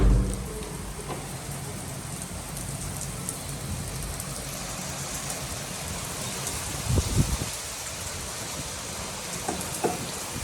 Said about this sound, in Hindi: बाहर से बारिश की आवाज़ें आने लग गई